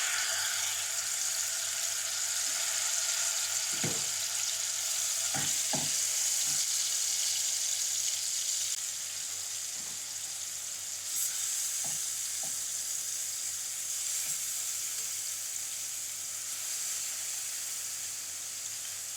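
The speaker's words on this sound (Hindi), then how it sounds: "तेल गर्म हो चुका, अब हम इसमें चिकन डालेंगे।" Chicken tikka pieces fry in hot oil in a pan, giving a dense, continuous sizzle with a few sharp clinks and taps of pieces being placed, close and with no talking.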